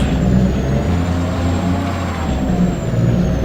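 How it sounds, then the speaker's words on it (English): Modded truck engine from a farming video game on a riverbed map, a loud steady diesel drone with a constant low rumble and faint high whine, unbroken and alone with no talk. "some of them sound realistic, what a truck would sound like"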